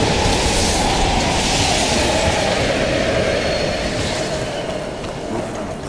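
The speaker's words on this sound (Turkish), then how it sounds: "We can use the train to slip past." A train rushes through an abandoned station in the Call of Duty Cold War video game, a loud, steady roar of rolling wheels and rattling carriages close by that fades slightly toward the end.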